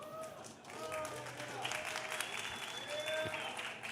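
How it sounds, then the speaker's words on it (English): Sustained audience applause fills a conference hall at a blockchain tech event, a dense wash of many hands clapping at moderate distance, with faint voices and cheers mixed in. "You can clap."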